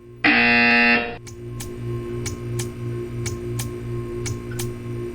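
A loud, single electronic buzzer blares for under a second in the Portal video game, followed by a quieter, regular ticking pulse.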